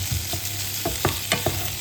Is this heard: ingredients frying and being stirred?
yes